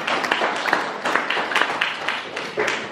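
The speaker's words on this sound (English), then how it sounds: "So, round of applause," A congregation at a Sunday church service in St Helen's, Solihull, claps in a short burst of uneven, fairly close applause with individual claps standing out over roughly three seconds.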